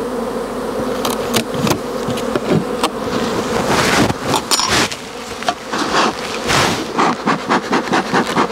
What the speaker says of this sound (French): Bon déjà on peut voir il y a pas mal d'abeilles.